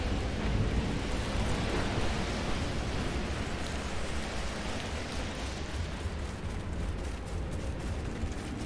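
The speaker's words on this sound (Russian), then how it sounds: "Буря усиливается с каждой минутой." Intensifying storm in the video game Outriders, a dense, steady wash of heavy rain with a deep rolling thunder rumble underneath, loud and continuous throughout with no voices.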